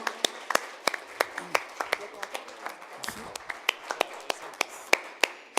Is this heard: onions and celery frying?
no